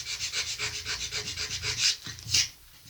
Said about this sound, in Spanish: voy a hacer así con la lija.